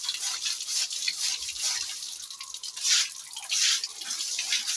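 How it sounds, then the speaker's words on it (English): Fresh running water from a tap in a cleaned goat pen splashes and drips steadily at low volume, swelling briefly a couple of times, with no voices. "fresh running water in your farm for cleaning purposes"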